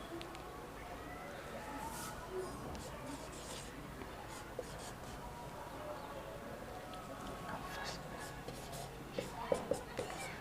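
Chalk or marker writing the word Ajmer on a classroom board, faint scratchy strokes under a quiet room hiss, ending in a few sharper taps.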